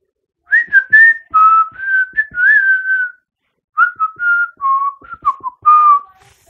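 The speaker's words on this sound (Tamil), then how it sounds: "ஒரு கேட்சியான ஒரு விசில் தீம், நல்லா இருக்கு" A catchy whistled theme tune from the Tamil film Valimai plays as clear, loud melodic whistling in two phrases separated by a short pause, with no talking.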